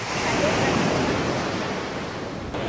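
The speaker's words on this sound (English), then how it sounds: "welcome to Nacpan Beach" Surf rolling in on Nacpan Beach, a close, loud wash of ocean waves with wind buffeting the microphone, continuous and fading slightly toward the end.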